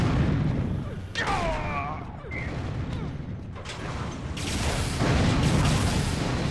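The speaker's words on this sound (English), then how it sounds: "cannon's back on." Cannon fire in an Unreal Tournament Assault match on the Improved Navarone map, heard as booming blasts with whistling projectile sweeps amid dense, loud game noise and chatter.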